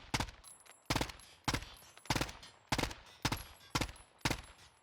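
Bursts of automatic gunfire from a Warzone video game shootout at a vehicle, about eight loud, evenly spaced volleys with no talk, each ringing briefly before the next.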